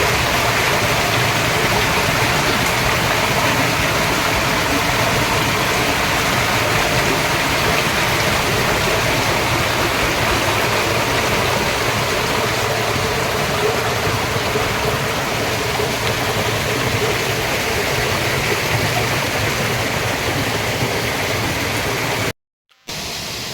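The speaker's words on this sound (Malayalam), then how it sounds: "ഇപ്പം നിങ്ങൾ കാണുന്നത് നമ്മുടെ വെള്ളച്ചാട്ടത്തിൻ്റെ മുൻപിൽ നിന്നുള്ള വ്യൂ ആണ് മുകളിൽ നമ്മുടെ വെള്ളച്ചാട്ടം കാണാൻ കഴിയും" A waterfall at Cheerattamala pours in a loud, unbroken roar of rushing water, heard close and steady with no voices.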